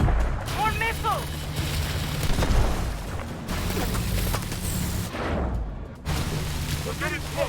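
Repeated missile explosions in the video game Call of Duty: Advanced Warfare, deep booms and bursts rolling one after another, with a voice talking over the blasts.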